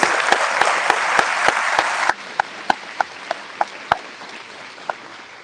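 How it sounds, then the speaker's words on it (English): Loud applause from a county fair coronation audience, dense clapping for about two seconds that abruptly thins to a handful of scattered, sharp individual claps spaced out over the next few seconds. "Please give her a round of applause."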